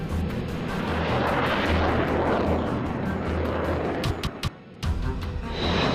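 Sukhoi Su-30 fighter jet flying with a loud, continuous broadband engine roar that holds steady, briefly dips and breaks up near the end, then returns at full strength.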